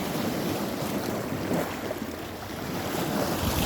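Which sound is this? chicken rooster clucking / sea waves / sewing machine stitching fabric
sea waves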